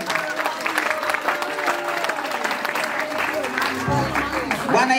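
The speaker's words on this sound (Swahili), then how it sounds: "Makofi kwa Yesu." A church congregation claps at a prayer-room launch meeting in Phoenix, Arizona. The applause is a dense, steady patter that runs throughout, mixed with voices and tonal sound.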